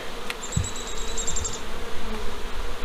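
Honeybees at a split hive make a steady, close buzzing drone that fills the whole moment, with a brief higher whine passing through near the start.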